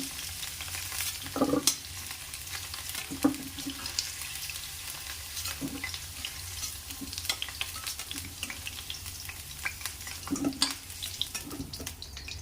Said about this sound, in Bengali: দেখুন আলুগুলো ভাজা হয়ে গেছে